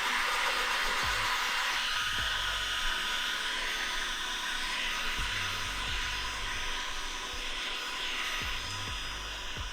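A heat gun blows a steady, hissing stream of hot air over the corners of an anti-glare film on a Nissan Patrol Y62, with a few soft knocks from handling the film.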